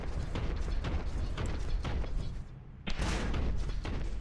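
Heavy, thumping bolt gun fire in the Warhammer 40K Boltgun video game, a dense run of loud mechanical shots and clanks that dips briefly before another burst of firing.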